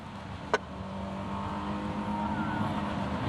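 A loud car engine idles in traffic, a steady low rumble with a faint whine holding through the whole stretch, plus a single sharp click near the start.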